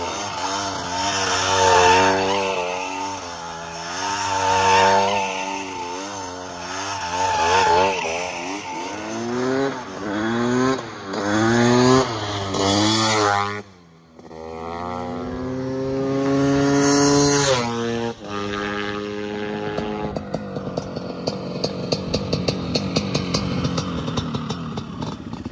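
A supermoto motorcycle engine drifting at low revs, with several rising and falling rev sweeps, a short drop to near-quiet, then a sustained higher pitch that settles into a rough idle.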